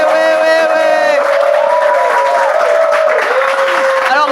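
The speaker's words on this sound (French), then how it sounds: "Applaudissez-vous," A studio audience at a Bible quiz show applauds and cheers continuously, loud and sustained, with whoops and shouting voices riding over the clapping throughout.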